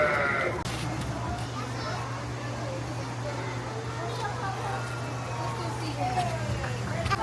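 Sheep bleat intermittently nearby at Rafiki's Planet Watch, Disney's Animal Kingdom, soft wavering calls over a steady low hum and general crowd noise, with people talking around.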